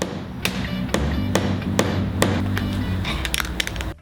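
A hammer drives nails into cedar cladding, the strikes landing through a flashing offcut as a run of sharp, close taps, steady at first and then in quicker bursts near the end.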